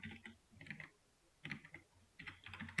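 Faint typing on a computer keyboard during a web development lesson, with three short bursts of quick key clicks separated by brief pauses.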